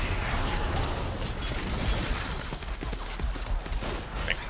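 Miss Fortune's gunfire abilities in League of Legends crackle as a dense burst of rapid shots and impacts over busy game noise, with some shots standing out near the end.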